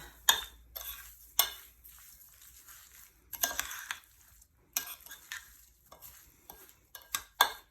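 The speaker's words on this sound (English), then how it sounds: "And here's our panko breadcrumbs with all of our herbs and spices. So I'm going to give that a good mix." Panko breadcrumbs, Parmesan cheese, herbs and spices being mixed in a bowl, heard as close, intermittent scraping and stirring bursts separated by brief quiet gaps, with no talking.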